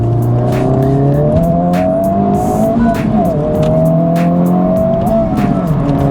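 A Honda FL5 Civic Type-R engine revs hard while driving, its loud, steady drone rising and falling in pitch through gear changes, with brief tire squeal over a continuous close roar.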